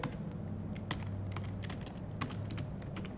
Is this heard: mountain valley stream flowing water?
no